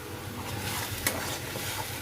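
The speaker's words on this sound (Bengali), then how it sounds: "এটাতে আলু ভাজতে দিলাম" Potatoes frying in a pan, a steady close sizzle with a faint stirring scrape near the middle, fairly quiet and without talk.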